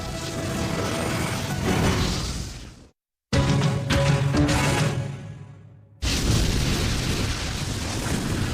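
Roaring blast of the Azure Flames, God's fire, a magic fire attack in the anime Kaze no Stigma: loud, dense rushing booms in three sustained bursts broken by abrupt silent cuts.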